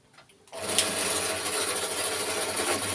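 After a quiet moment, a drill starts up and grinds steadily into metal for a gauge 1 model locomotive, with a constant whirring, rasping tone.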